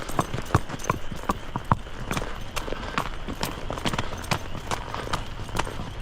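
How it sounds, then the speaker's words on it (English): A horse moves into a trot, hooves striking in a quick, even two-beat clip-clop with sharp, fairly close impacts that continue steadily throughout. "here you can hear that she is going into a trot"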